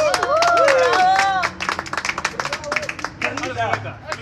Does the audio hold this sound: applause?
yes